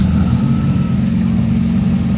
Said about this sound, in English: I think we have a Siata coming in here with a small Fiat V8 engine